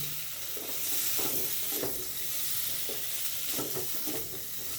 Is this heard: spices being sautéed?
yes